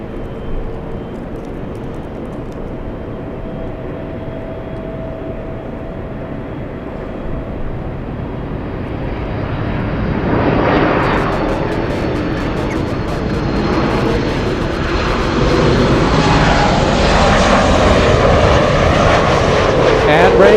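A jet airliner in hummingbird livery departs LAX bound for DFW, its engine roar building to a loud, broad rumble under gusting wind, with a voice speaking over it.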